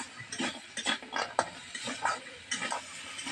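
Spoon stirring spiced masala bori in a pan, a series of soft scraping and clinking strokes in an irregular rhythm, close and fairly quiet, with no talking.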